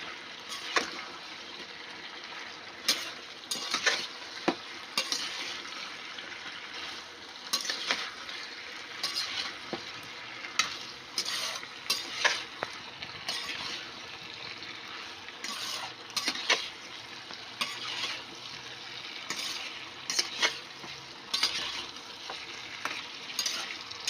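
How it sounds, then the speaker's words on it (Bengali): Chicken coated in ginger garlic paste sautés in a pan under a low, steady sizzle, punctuated by frequent sharp scrapes and knocks of a spatula stirring at irregular intervals, close by and without speech. "এবার এটাকে ভালো করে কষিয়ে নেব যতক্ষণ না আদা রসুনের কাঁচা গন্ধটা চলে যাচ্ছে।"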